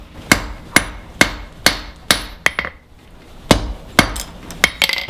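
Blacksmith's hammer strikes hot steel while forging a leaf keychain, about a dozen sharp ringing blows in an uneven rhythm with short pauses, some hits followed by quick lighter taps, close and loud with no talking.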